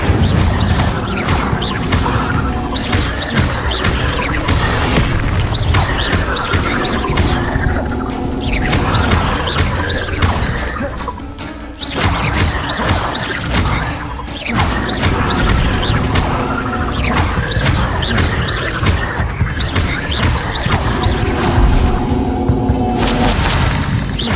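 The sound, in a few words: Incendio fire spell cast in a wizard video game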